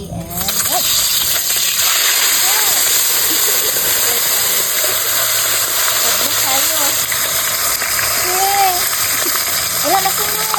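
A large fish is plunged into hot oil over a strong fire for escabeche and fries with a loud, continuous hiss and sizzle that holds steady throughout, with faint voices underneath.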